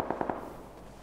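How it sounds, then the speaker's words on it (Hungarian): Gunfire in the video game PUBG Lite sounds as three quick, faint cracks in rapid succession, heard from a distance and fading into a quiet background. "Na, én hallom a lövéseket."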